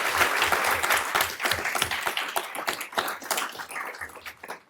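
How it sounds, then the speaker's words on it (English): A city council chamber audience applauds at an Elk Grove City Council meeting, a dense burst of clapping that fades toward the end, heard alone without talk. "Can we give them all another round of applause?"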